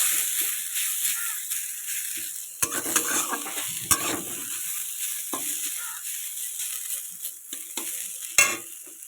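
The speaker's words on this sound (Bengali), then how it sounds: "আলুগুলো একটু ভেজে নেবো হালকা" Salted potatoes lightly frying in a pan over a gas flame for aloo paratha, a soft continuous sizzle broken by occasional stirring clatters and scrapes, close and moderately quiet.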